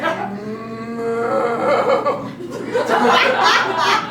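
A person imitates a cow with a drawn-out, wavering moo in a room, while an audience chuckles and laughs around it.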